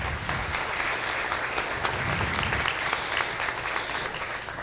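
A banquet audience at a DeKalb County Fire Department event claps for sponsors, loud and steady throughout with no talk over it.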